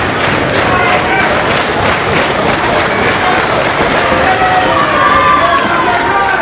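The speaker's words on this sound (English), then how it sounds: "Crowd here loving every second of this matchup" A live wrestling crowd at a tag-team match roars and cheers continuously, a loud, dense wash of shouting and clapping with scattered thumps from the ring.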